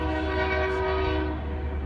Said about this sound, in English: Freight train. I'm right here by the train station. That's why you hear that train.